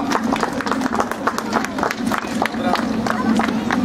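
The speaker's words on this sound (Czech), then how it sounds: "Tak prosím ještě jednou o potlesk pro pana Petra Golda" A crowd at a driving school open day claps for the winner of a Kia Ceed prize, a lively patter of individual hand claps outdoors with a low steady hum beneath and voices mixed in.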